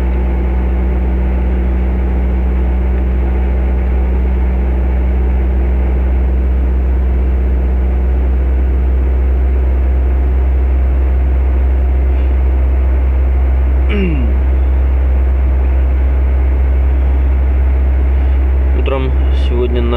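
A Nissan Almera N15 engine runs after throttle body cleaning, holding a loud, steady low drone throughout, with a short rising whine and faint clicks near the end.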